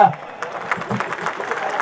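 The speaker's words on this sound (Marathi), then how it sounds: "पुन्हा एकदा कृष्णासाठी जोरदार टाळ्या झाल्या" A crowd applauds batsman Krishna Satpute at a cricket match: steady, moderately loud clapping from spectators that runs under a commentator's talking.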